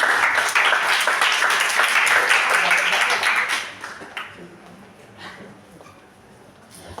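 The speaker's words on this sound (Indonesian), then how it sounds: "Ini tepuk tangannya." Audience applause at a university literacy event in Surabaya, dense clapping for about three and a half seconds, then fading to a few scattered claps and quiet room noise.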